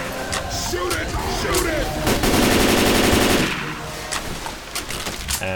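Automatic gunfire in the zombie shooter Left 4 Dead 2, with loud rapid bursts and a sustained rattling stretch in the middle, under the game's loud surrounding din while players shout over it.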